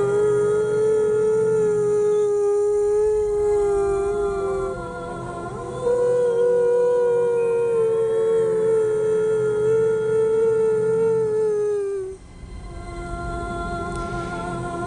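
A human voice imitates the howl-like call of an aswang, a long, sustained, wavering wail that rises and falls, pausing briefly midway and trailing off near the end, loud and close.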